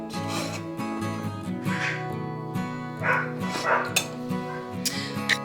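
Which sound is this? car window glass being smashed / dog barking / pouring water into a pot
dog barking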